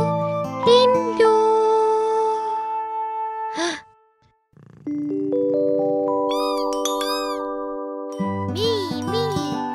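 A cartoon cat gives several clear meows alongside bright jingling chimes and musical tones in a children's animated show, with a short silent gap midway and a voice gasping and sighing briefly.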